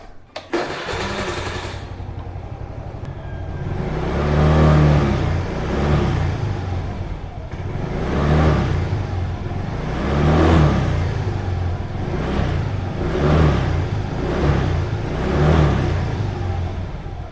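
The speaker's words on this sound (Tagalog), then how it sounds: "Soundcheck natin kung ano yung tunog ng exhaust ng Suzuki" A Suzuki Skydrive Sport 125cc motorcycle's exhaust idles steadily and close by, then is revved repeatedly in regular swells, each rise in engine pitch falling back to idle, with no talking.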